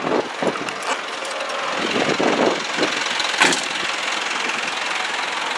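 A 2010 Mitsubishi Fuso dump truck with a 4.9 liter turbo diesel engine idles with a steady, rough knocking rumble at moderate volume, with a few louder clanks over the top.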